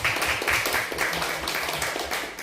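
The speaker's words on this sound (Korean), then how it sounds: "우리 집사님에게 박수 한번 보내주시고" Church congregation at a Sunday worship service claps for a deacon, a brief, moderately loud burst of many hands with a slightly uneven rhythm.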